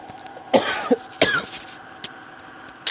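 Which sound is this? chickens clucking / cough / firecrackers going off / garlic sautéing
cough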